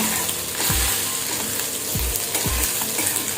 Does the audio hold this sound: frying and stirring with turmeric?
yes